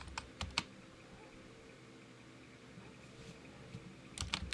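Computer keyboard typing in short clustered bursts of keystrokes, a few clicks at the start and another quick flurry at the end, close and fairly quiet over a faint fan hum.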